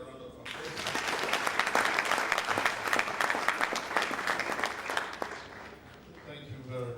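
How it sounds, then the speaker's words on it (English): Applause at an inauguration ceremony for a student union president, a crowd clapping that swells after a moment, holds strongly, then fades as a voice begins speaking. "Let's give them a round of applause"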